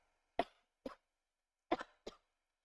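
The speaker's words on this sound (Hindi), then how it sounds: "काफी ज्यादा खांसी हो रही है" Four sharp coughs in two quick pairs, close and fairly loud, with silence between them.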